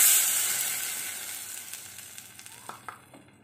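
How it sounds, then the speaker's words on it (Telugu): Tamarind extract hits hot oil tempering and sizzles loudly at first, a bright hissing sizzle that gradually fades over a few seconds, with a few soft spoon clinks toward the end. "ఇప్పుడు దీంట్లో మనము ముందుగా రెడీ చేసి పెట్టుకున్న చింతపండు పులుసుని యాడ్ చేసుకోవాలి."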